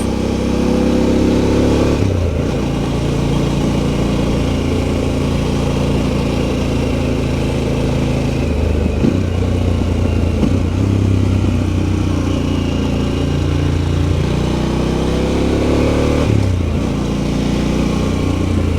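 A motorcycle engine heard from the rider's position on a wooded road, droning steadily and loudly with repeated rises and falls in pitch as it revs through gears, with no talking.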